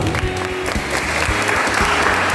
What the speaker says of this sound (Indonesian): adik-adik yang ada di sini boleh tepuk tangannya dulu